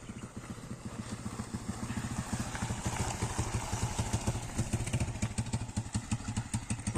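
A Viper MX 200 motorcycle engine putters with a steady, rapid beat, growing slightly louder as it rides back toward the listener.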